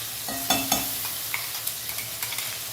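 Masala paste for kadai paneer gravy fries in oil in a kadhai, with a steady low sizzle and a few sharp spoon scrapes and taps as it is stirred, close and alone.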